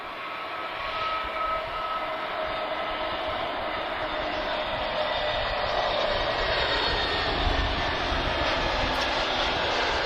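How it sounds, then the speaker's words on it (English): Airbus A321neo jet landing at Lisbon Airport, a steady broadband roar of engines and airflow holding at a constant, fairly loud level throughout, with no talk. "Alright, A321neo from Paris, just about to touch down."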